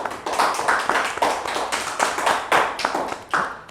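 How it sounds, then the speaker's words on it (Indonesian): A small audience claps to welcome a guest on a podcast in Tanjungpinang, Indonesia: close, distinct hand claps in a fairly regular rhythm, loud and clear with no speech. "Yuk tepuk tangan dulu dong."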